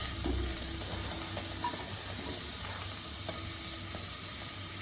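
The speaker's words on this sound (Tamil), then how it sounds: "இப்போ வந்து இந்த மஷ்ரூமும் நல்லா வதங்கணும்" Sliced button mushrooms sauté in a pan for a homemade mushroom soup, a soft, even sizzle that holds steady throughout, with a faint scrape or two of stirring and no voices.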